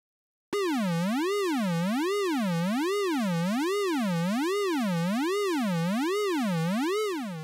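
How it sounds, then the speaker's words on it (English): A steady Arturia ARP 2600 V synthesizer tone wobbling up and down in pitch at a slow, even rate from LFO sine wave modulation, sustained alone for several seconds before fading slightly. "we move from more of a vibrato effect to more FM synthesis"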